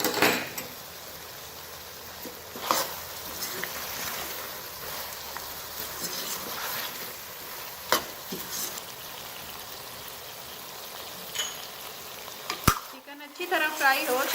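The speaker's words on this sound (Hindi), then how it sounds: "चिकन अच्छी तरह फ्राई हो चुका है।" Chicken frying in a karahi pan with whole spices such as cumin, cloves, black pepper, black cardamom and cinnamon, a steady soft sizzle with occasional clinks of a utensil stirring against the pan.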